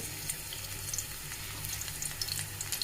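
Chopped garlic frying in oil in a wok, a steady moderate sizzle with faint crackles running through the whole stretch, alone without voices.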